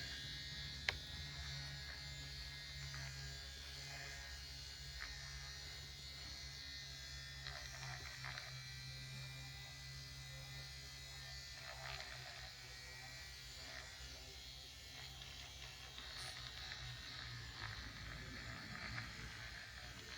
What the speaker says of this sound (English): I'm gonna fan my face with my cute little avocado fan that also lights up